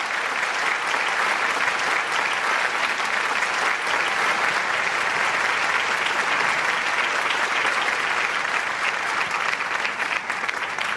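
An audience claps loudly and steadily at a stage program, dense continuous applause holding at full strength throughout with no pauses.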